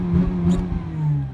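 A cold Series 2 Mazda RX-8 rotary engine hums at a steady, limited rev, a loud close low drone that barely changes pitch over a second and a half.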